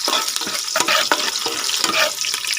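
Fish paksiw cooks in a clay pot on the stove. Scraping stirs sound close over a steady bright sizzle, with several distinct strokes across the few seconds.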